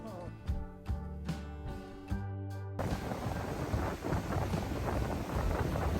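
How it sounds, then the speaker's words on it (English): Steady rain pours down in a thunderstorm, a dense rushing wash that swells after a few seconds, with a low rumble underneath and music playing over the opening moments. "the rain has finally hit, but honestly, up until now, we have lucked out so much, and I'm hoping, fingers crossed, that this is maybe just a passing storm"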